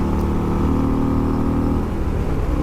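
A 2023 Harley-Davidson Road Glide Limited motorcycle engine at high revs, a loud, sustained droning roar with steady tone under heavy wind.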